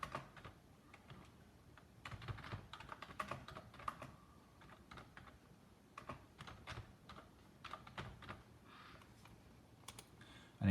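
Quiet, close bursts of typing on a computer keyboard, entering a label in SolidWorks CAD software, with irregular key clicks and pauses and no talking.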